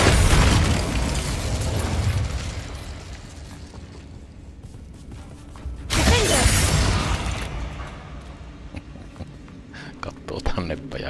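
Spell explosions in the video game Hogwarts Legacy: two heavy, booming blasts with debris and rumble trailing after each, one at the start and a second about six seconds later. They are loud and close, with game noise and a voice underneath.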